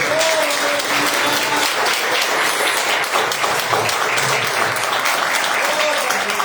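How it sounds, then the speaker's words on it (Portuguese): Church congregation applauding Jesus during a Pentecostal-style service, a dense, steady wash of clapping throughout with scattered voices and cheers mixed in. "Quem pode aplaudir Jesus?"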